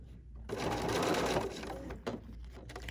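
A sewing machine with a needle-down function runs in a short close burst of stitching making an ornament, followed by a few mechanical clicks as it stops.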